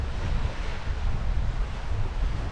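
Wind of about 15-20 knots at sea aboard a sailing yacht in building waves, a steady loud roar and buffeting across the whole clip with no voices.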